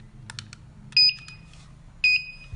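Short electronic beeps from a car's push-button start system as an RFID card is pressed to it, two distinct high tones about a second apart with faint clicks and a low hum between them.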